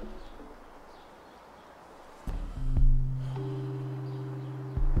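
Pigeon-like cooing from a bird in the game SCHiM, a soft, low, steady coo that starts partway through and holds over a quiet background, clear and close.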